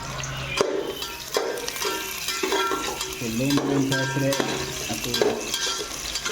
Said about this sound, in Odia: ଟିକେ ହାଇ ଫ୍ଲେମ୍ରେ ଟିକେ ପିଆଜଟାକୁ ଭାଜି ଦିଆଗଲା।